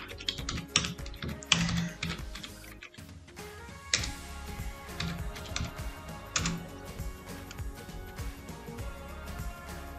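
Rapid typing on a computer keyboard, a steady patter of key clicks under background music with no talking.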